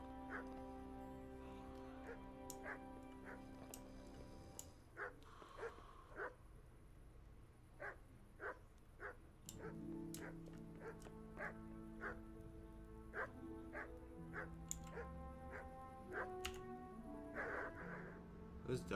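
Dogs bark in Kingdom Come: Deliverance, repeated sharp barks from a distance, scattered irregularly over sustained background music and ambient rustle.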